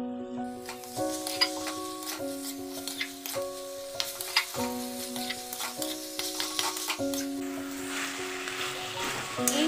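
Slit green chillies sizzle and crackle steadily in a hot pan on a gas flame for a coriander chicken curry, with a stirring scrape now and then and a tune playing throughout.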